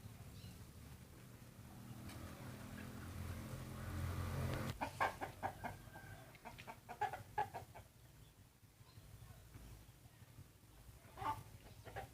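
Chickens on a small farm that also grows vegetables cluck in a string of short, close calls, starting after a stretch of low rumbling background noise and continuing to the end.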